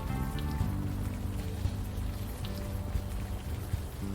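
Steady rain falling at night on a city street in the game Unavowed, a continuous patter of drops on hard surfaces, moderately loud under a low musical drone, with no talking.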